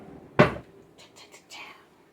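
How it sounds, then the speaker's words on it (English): A kitchen knife drawer pulled open with one sharp clunk, then a few faint rattles and rustles in an otherwise quiet room. "That's my knife drawer."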